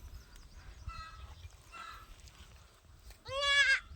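A goat gives a short, loud bleat during birth, rising clearly near the end above quieter earlier calls and low background rumble.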